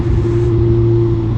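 A Kawasaki Z1000 motorcycle engine runs through its dual exhaust, giving a loud, close, steady droning hum with a strong low tone and no pauses over the brief moment.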